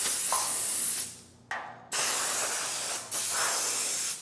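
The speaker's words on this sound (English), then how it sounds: "I'm going to blow it off real quick." Compressed air hisses in three long loud bursts with short pauses between, blowing dust off outdoor furniture being restored.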